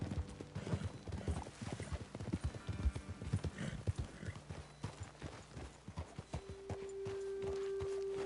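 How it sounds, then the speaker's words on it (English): Horses clip-clop steadily along in a video game, hooves sounding close and rhythmic, with a whinny heard partway through and a sustained tone entering near the end. "Okay, let's dismount here. Best leave the horses back a bit."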